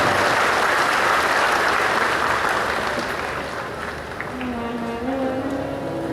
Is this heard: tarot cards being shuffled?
no